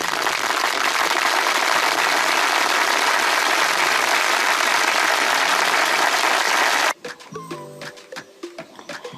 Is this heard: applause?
yes